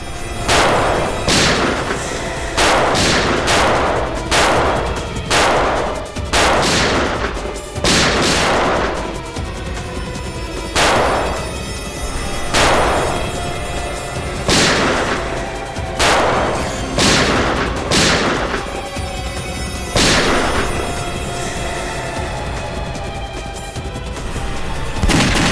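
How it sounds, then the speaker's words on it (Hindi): Repeated loud gunshots from a CID police drama shootout, sharp bursts firing in uneven clusters over a steady dramatic music bed, with no talk. "गोली चला।"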